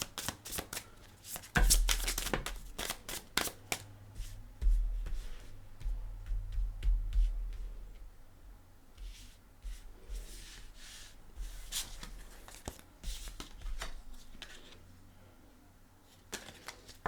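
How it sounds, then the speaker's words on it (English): Tarot cards being riffled and shuffled in repeated quick bursts of crisp flutters and taps, close and fairly quiet, with pauses between rounds. "Give it a couple more shuffles."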